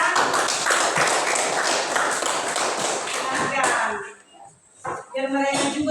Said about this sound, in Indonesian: Kita sambut kelompok 3 dengan tepuk tangan juga biar mereka